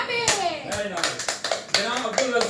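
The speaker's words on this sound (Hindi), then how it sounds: "जब मैं कह रहा था आपने तालियां बजाई" Scattered, uneven hand claps ring out in a lively room, with voices chattering and calling out among the applause.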